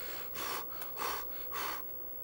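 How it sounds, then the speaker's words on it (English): Heavy breathing from a gamer playing Ape Escape 3, three loud, breathy gasps spaced about half a second apart, close and alone without any talk. "I was breathing like I was giving birth."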